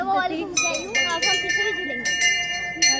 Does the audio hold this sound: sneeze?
no